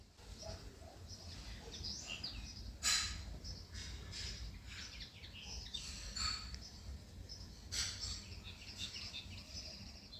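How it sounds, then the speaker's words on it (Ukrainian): Several birds chirp and tweet in short bursts against a quiet outdoor background, fairly distant and soft, with no talking. "Ой, пташки співають."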